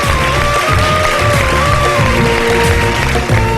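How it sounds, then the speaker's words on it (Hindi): Studio audience at a televised iftar quiz show applauding a prize winner: loud, sustained clapping from the crowd throughout, with a musical or tonal layer running over it. "बहुत सारी तालियां इनके लिए।"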